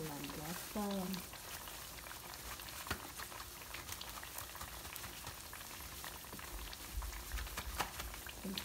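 Steady sizzling and bubbling of imitation shrimp frying in hot oil, a dense crackling hiss throughout with a brief voice near the start.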